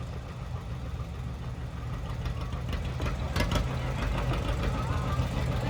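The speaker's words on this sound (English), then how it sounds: "This tractor replaced the John Deere B, which was a very popular tractor for John Deere." John Deere tractor engine running in a heritage weekend tractor parade, a low, steady rumbling chug that builds slightly louder as it draws nearer, with faint crowd noise around it.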